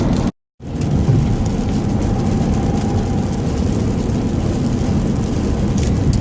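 Steady, dense rain hissing continuously, with a low rumble beneath and a brief moment of silence near the start.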